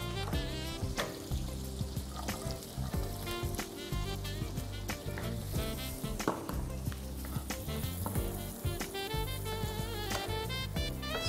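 Garlic and onion sauté in hot oil in a pan, giving a steady crackling sizzle with bubbling and occasional stirring clatter, close and continuous, with background music over it.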